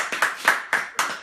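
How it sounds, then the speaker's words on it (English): A few children clap for their mom on Mother's Day, a handful of separate sharp claps in an uneven rhythm, close and fairly loud in a quiet room. "Give Mom a round of applause for all the stuff she does for you guys."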